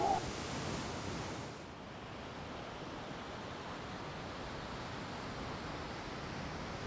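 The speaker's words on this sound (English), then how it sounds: "The waves." Ocean surf washes onto a beach at Xcaret Park in Mexico as a broad, steady hiss of breaking waves, moderately distant and continuous, with a brief voice at the very start.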